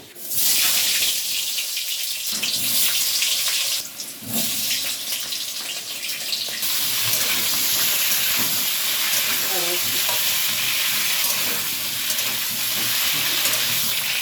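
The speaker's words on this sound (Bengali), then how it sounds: "তেলটা খুব ভালো করে গরম হয়ে গেছে এবার আলুগুলো আমি ভেজে নেবো" Salted, peppered potatoes hit very hot oil in a pan, giving a loud, steady hiss and sizzle that carries on without a break after a sharp start.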